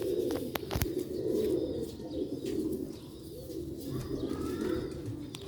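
Pure Sialkoti pigeons, a rooftop-kept breed, coo in low continuous rolling murmurs, close and fairly loud, with a couple of brief sharp clicks near the start and no talking.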